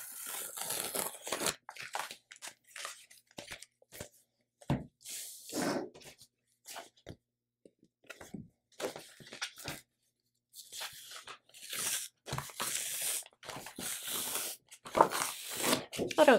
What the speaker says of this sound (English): Now I'm going to cut right below my cut line so I waste as little vinyl as possible.